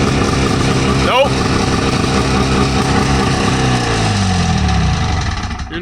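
Wheel Horse Safari snowmobile engine running steadily and loud at close range, a dense continuous drone that winds down toward the end, with a voice briefly heard over it.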